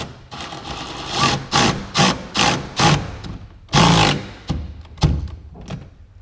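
A hand ratchet works on a Porsche 944 during an LS engine swap, giving close, loud bursts of rapid clicking strokes in an uneven rhythm, each pull a short buzzing rattle separated by brief pauses.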